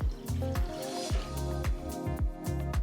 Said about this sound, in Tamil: அடுத்து ஒரு அகலமான கடாயில் 2 கப் அளவுக்கு தண்ணி ஊற்றி